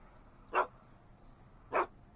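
Two short, sharp barks from a dog in Back to the Future: The Game, spaced about a second apart, clear against quiet background.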